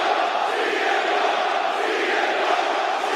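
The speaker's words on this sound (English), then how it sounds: "Listen to this crowd." A large wrestling arena crowd roaring and cheering in a dense, sustained wall of voices, steady and loud throughout without pauses.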